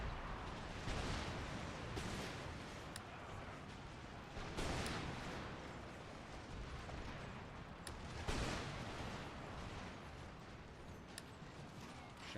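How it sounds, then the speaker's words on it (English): Artillery cannon fire in the video game Empire Total War, a continuous roaring battle din with repeated heavy booms and crackling volleys spread across the field, loud and dense throughout. "Artillery, focus fire on them"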